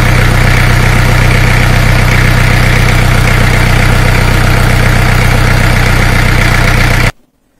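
A car engine idles steadily with a low, constant hum and rumble, loud and close, then cuts off abruptly near the end.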